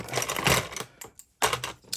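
A knife slices open a package with rapid scratchy ripping strokes in two bursts separated by a brief pause, close and fairly loud with no talk.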